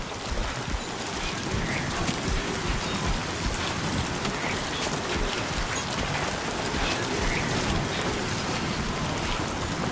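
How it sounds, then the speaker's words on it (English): Steady heavy rain falling, a dense continuous hiss of drops on surfaces with a low rumble underneath, unbroken for the whole stretch. "We just need this rain to stop"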